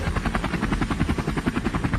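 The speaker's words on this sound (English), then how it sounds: "It's the emergency helicopter." Emergency helicopter flying close overhead near a park, its rotor chopping in a steady, loud, rapid rhythm throughout with no voices.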